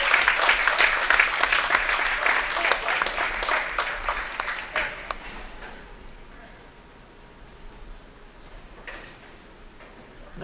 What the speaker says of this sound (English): Big round of applause here for Paula.